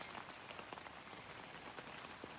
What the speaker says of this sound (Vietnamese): ừ, mưa, mưa hả